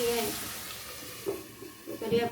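Tomato and onion frying in a pan, giving a steady close sizzle and hiss with a few soft stirring scrapes breaking through.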